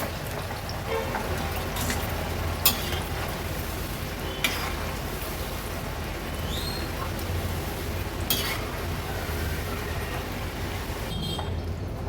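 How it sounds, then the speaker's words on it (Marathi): Jackfruit chips deep-frying in hot oil, a second batch cooking in a Konkan-style kitchen, give a steady broadband sizzle and bubbling with a few sharp metallic clinks of a utensil against the pan, no talk. "आता हे उरलेले चिप्स पण आपण पहिल्या पद्धतीनेच तळून घेणार आहोत"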